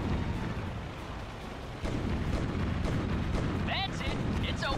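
Dense, continuous rumble of aerial combat gunfire and explosions from the World War II flight game Blazing Angels: Squadrons of WWII, loud and steady throughout, with brief whistling tones near the end and players talking over it.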